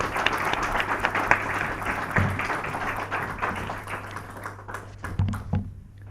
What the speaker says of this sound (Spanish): pedir un gran aplauso para Florentino Portero